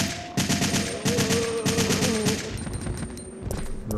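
Rapid automatic gunfire from the video game Resident Evil 3, sustained bursts of loud, dense shots with brief gaps and a steady background hum.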